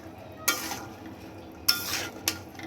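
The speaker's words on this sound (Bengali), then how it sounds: "মশলাটাকে ভালো করে মিক্স করে কিছুক্ষণ ঢেকে রান্না করব।" Spiced chickpea masala stirred in a pan, with three distinct scraping strokes of a utensil against the pan over a low, quiet cooking background.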